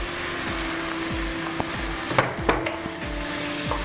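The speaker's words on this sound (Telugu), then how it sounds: "రైస్ వేసుకుని ఇప్పుడు మనం దీన్ని బాగా టాస్ చేసుకుందాం." Precooked rice frying and being tossed in a pan for masala pulao: a constant sizzle with a few soft scrapes and light clatters near the middle, no voices.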